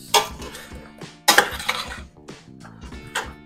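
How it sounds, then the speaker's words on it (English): Chili being stirred in a metal cooking pot aboard a ship's galley: a few loud clanking scrapes of a spoon against the pot, with softer clinks between, close and without talk. "So give us all a stir up."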